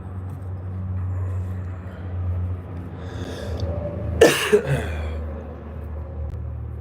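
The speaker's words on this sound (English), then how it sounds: "You guys forgive me for the coughing." A person coughing indoors while tying fishing jigs, a short burst of two or three harsh coughs near the middle, with a low rumble in the background before and after.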